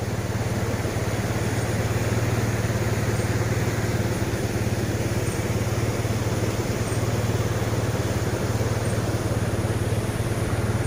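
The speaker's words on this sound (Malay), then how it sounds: "Saya matikan engine motor sekejap" A motorcycle engine idles steadily in the rain beside a flooded logging trail with muddy brown water, a low continuous rumble holding at close range for the whole stretch with broadband rain hiss layered over it and no voices.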